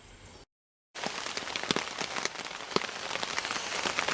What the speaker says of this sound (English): As you can probably hear, it's pouring down rain.